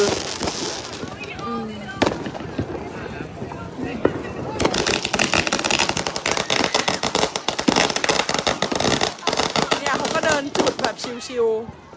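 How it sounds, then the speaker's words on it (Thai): Loud countdown fireworks burst close by in America in a rapid, crackling barrage, dense bangs running almost continuously, with people talking and reacting beneath the noise. "มันเป็นที่สำหรับจุดพลุใช่ไหมพี่แนน"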